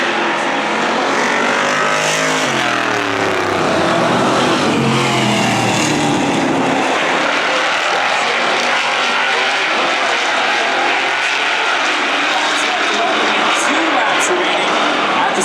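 Racing trucks roar loudly off the final turn of an oval track on a restart, engines accelerating and sweeping past in a dense pack beneath continuous commentary.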